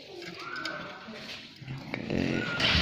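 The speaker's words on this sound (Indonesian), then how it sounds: "Oh, burung perkutut." A wild zebra dove (perkutut) coos amid busy background noise that swells toward the end, the coo fairly clear but not dominant, with no clear talk.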